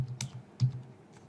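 Typing on a computer keyboard while filling in an online purchase form, a few soft, quick key clicks in a quiet room.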